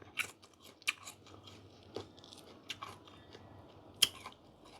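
Crisp fresh date fruits bitten and chewed up close: several sharp crunches spaced through the clip, with quieter chewing between them and no talk.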